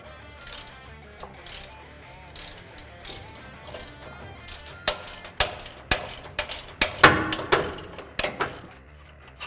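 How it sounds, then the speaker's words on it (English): Ratchet with a 21mm socket loosening an upper control arm bolt on a Ford F-150 front suspension, rapid clicking pawl ratchets in repeated strokes, close and growing louder toward the end. "Use a 21mm socket to remove the upper control arm."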